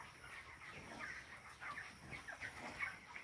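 Chickens on a small low-cost poultry farm cluck in overlapping bursts through a steady barn hum, with sharper calls popping up every second or so at moderate distance.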